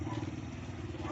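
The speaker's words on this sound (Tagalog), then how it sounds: "Ito na yung motor." Motorcycle engine running steadily, a close, continuous low rumble with faint clatter throughout, no pauses.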